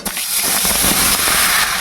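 Steamed jackfruit hits hot mustard oil in a pan with a loud, dense, steady sizzle that roars from start to finish, close up, with no talking.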